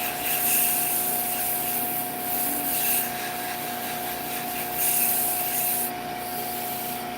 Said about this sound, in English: just going to do some quick sanding.